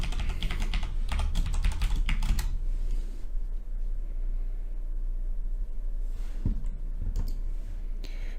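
Password being typed on a computer keyboard, a quick burst of close key clicks for a couple of seconds, then quieter scattered taps and a final few clicks over faint room noise.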